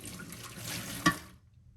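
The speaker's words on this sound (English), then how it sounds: "Now I need to drain this rice." Water from a pot of boiled rice pours steadily through a strainer for about a second with a faint splash, then cuts off into near silence.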